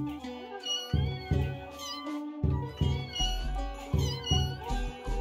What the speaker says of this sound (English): There's the secret cat.